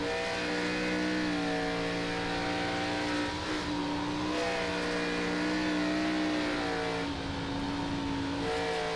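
A NASCAR Xfinity race car engine in iRacing at Indianapolis drones steadily at high revs, with a constant harmonic whine and brief shifts in pitch as the car drifts through a corner.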